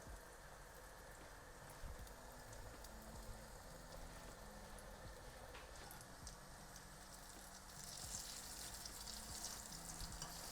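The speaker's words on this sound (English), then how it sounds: "So I'm just going to continue frying them all till all my slices are done." Thin aubergine slices fry in a pan with a soft, steady sizzle and crackle that swells slightly near the end. It stays quiet and close, with no voices.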